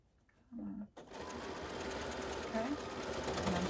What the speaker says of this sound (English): Okay, and I'm stitching right to the other side.